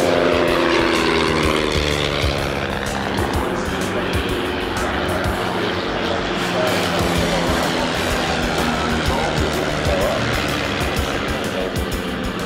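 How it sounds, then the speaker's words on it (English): A vintage Tiger Moth biplane makes a low fly-by, its propeller engine droning loudly and steadily, with the pitch sliding downward as it passes overhead. "but there are still many examples of this fine aeroplane still flying in New Zealand."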